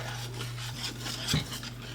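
Brownie batter being mixed in a bowl, a steady close scraping and stirring with a faint clink of a utensil against the bowl partway through, under a constant low hum.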